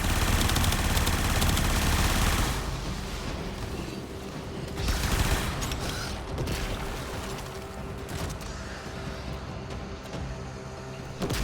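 Rapid gunfire in a video game as a player keeps shooting pressure valves, a loud, dense burst of shots that opens the clip, then continues in rolling volleys and mechanical clatter.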